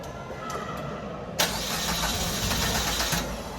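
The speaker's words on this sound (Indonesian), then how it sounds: "Coba starter." A Yamaha R3 motorcycle with a stalling fault is cranked on the electric starter, catching with an abrupt jump to a steady close, loud engine roar midway through, the earlier part quieter with faint workshop noise.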